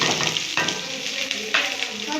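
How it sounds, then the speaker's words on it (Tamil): Mustard seeds, onion, shallots and dried red chilies tempering in hot oil for a drumstick-leaf dish, a close sizzle broken by a few sharp scraping stirs, brief and without talk. "கடுகு போட்டுடலாம். அப்புறம் வெங்காயம், வரமிளகா, சின்ன வெங்காயம் வரமிளகா"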